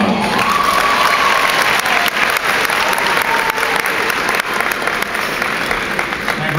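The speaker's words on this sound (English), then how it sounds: "graduates, perhaps you want to give them a round of applause" Graduates at an NYPD graduation ceremony applaud their families, loud dense clapping from a large crowd with light cheering mixed in, sustained throughout.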